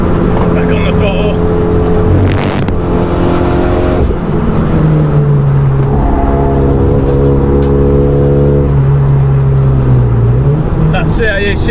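A RenaultSport Megane 250 Cup, tuned to 305 bhp, pulls hard on a race track, its engine note climbing steadily through the revs with a gear change partway, loud and continuous from inside the car while someone talks over it.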